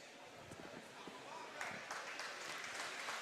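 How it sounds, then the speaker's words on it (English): A basketball crowd in a high school gym cheers and claps as an injured player gets back up, the noise rising partway through, with a commentator talking over it. "He gets up and the crowd cheers."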